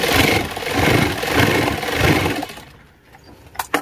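A sewing machine stitches along the edge of men's elastic underwear, running in a steady, whirring, pulsing drone for over two seconds before stopping, followed by a few faint clicks.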